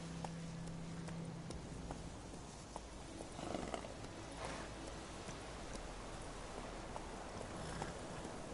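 Roach, Geralt's horse in The Witcher 3: Wild Hunt, clip-clops steadily along at a run, the hoofbeats blending into continuous outdoor game ambience with a brief low tone near the start.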